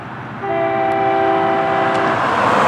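FEC freight train number 210 running north on a Friday morning, its horn sounding two long steady blasts over the continuous close rumble of the passing cars.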